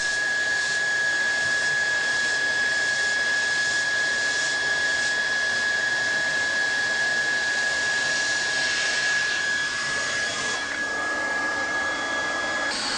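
Hot air plastic welding machine heating a welding rod into a grooved miter joint, a steady loud blower hiss with a constant high whine running throughout, no talk.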